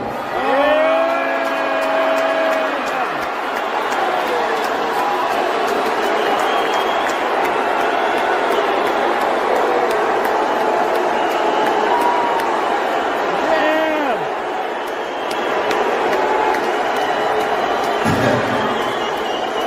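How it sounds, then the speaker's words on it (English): A large live comedy-show audience boos and jeers as the richest man in the world is brought on stage, a dense sustained crowd roar mixed with cheers, loud and continuous throughout, with an amplified voice and music tones over it. "All those people are booing"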